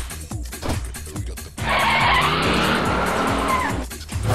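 A new car pulls away with a loud, sustained tyre squeal and skid lasting a few seconds, the engine revving hard close by after a brief exchange of voices.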